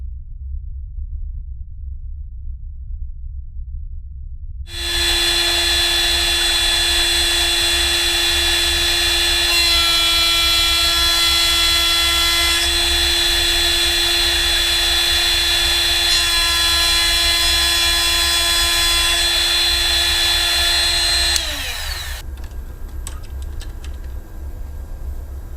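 Power tool cutting small parts for a console build, with a loud steady high-pitched whine that starts abruptly, holds for about sixteen seconds and winds down, over a low background hum.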